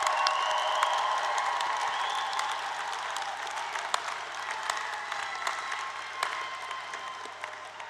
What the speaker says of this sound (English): we should have one more round of applause while we still have folks